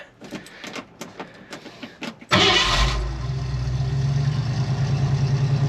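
The 302 V8 in a 1966 Ford F100 cranks with a rhythmic series of starter pulses for about two seconds, then catches with a loud burst and settles into a steady, throbbing high idle.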